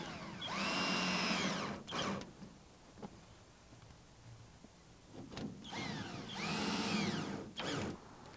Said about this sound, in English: drive 4 2 1/2-inch screws into the pre-drilled holes at the joint of the second and third wall panels